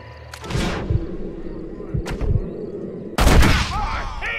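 Gunfire in the western video game Red Dead Redemption: a few sharp, loud shots with echoing tails, spaced over a few seconds, mixed with game dialogue and ambient sound.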